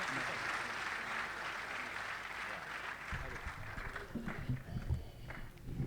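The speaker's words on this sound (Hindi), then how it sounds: "जोरदार तालियों से देखिए" An audience at a Hindi comic poetry gathering in Kurukshetra applauds to welcome a humorous poet. The clapping is a steady, fairly distant wash that grows heavier and more uneven toward the end, with some low thumps mixed in.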